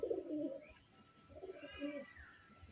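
Pigeons coo softly in a loft, a few low throaty coos in short bursts, faint and close with a quiet background.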